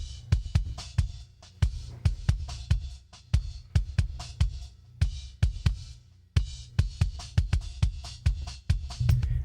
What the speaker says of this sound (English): that all together makes the kick sound like this